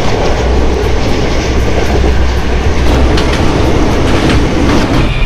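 A passenger train on the Howrah to Puri run rumbles loudly and continuously from inside a coach, with a deep steady roar and faint rhythmic clicks from the wheels.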